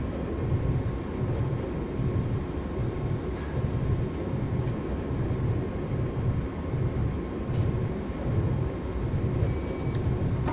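A Siemens Taurus electric locomotive on the Südbahn out of Wien Meidling in Train Simulator 2018 rolls with a continuous low rumble and a rhythmic clatter of wheels on track, steady throughout and with no voices.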